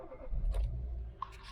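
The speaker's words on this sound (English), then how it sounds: "engine starts on the button" A small 1.2-litre petrol car engine starting on a push button, a brief low crank and catch followed by a settling rumble, with a faint click near the end.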